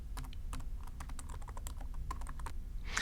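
Rapid keystrokes on a computer keyboard while entering a new hostname for a groov EPIC controller, irregular close clicks tapping steadily for a few seconds with no talking.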